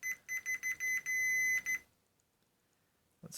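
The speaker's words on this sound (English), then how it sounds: "Let's get the old continuity meter out here." A continuity meter on an Ingersoll Rand Redi-Ratchet rebuild gives a rapid run of short electronic beeps, then one longer sustained tone and a couple more chirps before falling silent, with a small clunk at the end.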